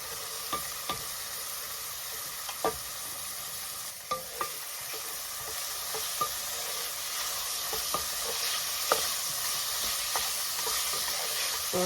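Leek sautés in a pan for Italian garlic soup, producing a soft, continuous sizzle punctuated by scattered light scrapes and taps of stirring at a moderate distance.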